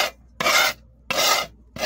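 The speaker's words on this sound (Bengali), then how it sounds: "এবার এমন ঘষে নিয়ে তারপরে ঝাঁটা দিয়ে পরিষ্কার করে নেব" Scrubbing and scraping a pigeon loft floor clean, three close, rough rasping strokes in an even back-and-forth rhythm, separated by short silences.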